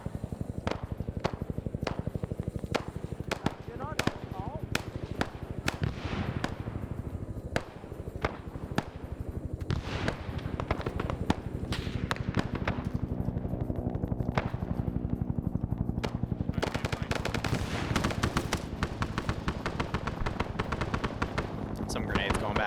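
Grenade explosions and gunfire in a Vietnam-era Arma Zeus operation: dense bursts of sharp shots and booms crowd together almost without pause, loud and continuous under an ongoing voice.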